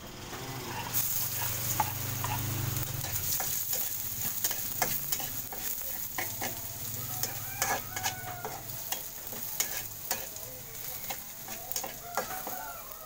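Garlic sizzling in a pan, a steady frying hiss broken by frequent stirring clinks and scrapes, with a rooster crowing faintly in the background and no talk.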